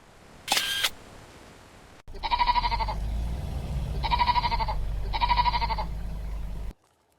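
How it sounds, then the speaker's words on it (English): Three loud, drawn-out bleats from a large flock of sheep close by in Iceland over a low rumbling background, preceded by a brief sharp noise burst. "Whoa, that's a lot of sheep."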